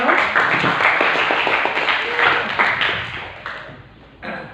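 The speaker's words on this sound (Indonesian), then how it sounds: "Tepuk tangan untuk beliau." Audience at an Islamic seminar in Bandung clapping loudly, the applause gradually thinning and fading toward the end with a few last scattered claps.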